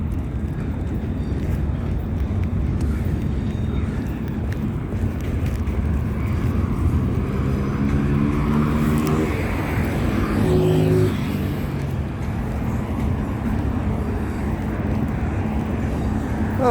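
A black car crosses a narrow one-way bridge over the River Clyde in Glasgow, its steady road rumble building to a pass around the middle, with wind buffeting the microphone throughout.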